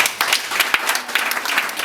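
A crowd applauds steadily, many hands clapping together in a dense, lively burst that holds for a couple of seconds.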